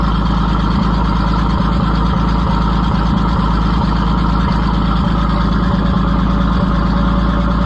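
A Farmers Union Co-op tractor engine idles with a fuel leak, a loud steady low-pitched chug with regular firing pulses and no talk.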